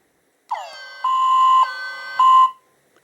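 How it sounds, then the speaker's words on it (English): An electronic Thunderbirds Are Go! toy siren wails in three bursts, each jumping to a louder, steadier tone, clear and close with no one talking. "Interesting alarm sound."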